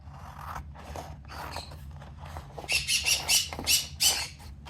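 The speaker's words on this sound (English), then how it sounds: "Scissors." Scissors snip repeatedly through paper pieces during a craft session trying Crafter's Companion colour creation powder, a series of quick, sharp, close cuts that grow louder and denser toward the end with no talking.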